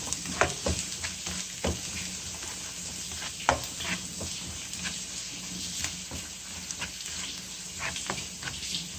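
Onion and garlic sauté in a pan with a continuous sizzle throughout, broken by frequent scraping stirs and clicks from the utensil. The sound is close and there is no talking.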